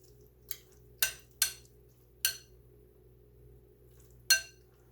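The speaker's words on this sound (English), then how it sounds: "Quick stir in the noodles." Noodles being stirred in a pot for keto lobster mac and cheese: five sharp, separate clinks of a utensil against the pot at irregular intervals over a faint steady hum, with no talking.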